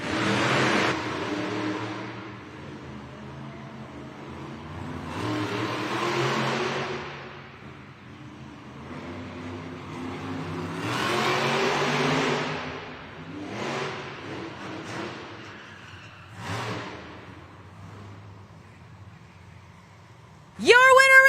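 Monster truck engines at an indoor arena start line rumbling and revving in repeated swells over a commentator's voice, with a sharp rise in loudness near the end.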